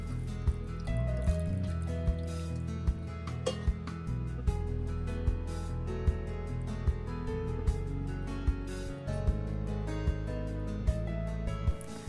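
Flour is worked into a wet mixture in a bowl for cinnamon sugar sticks, giving soft repeated squelching and sloshing with light regular taps, close and steady throughout.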